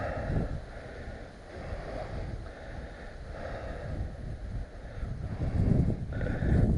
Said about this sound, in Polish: Trochę dzisiaj wieje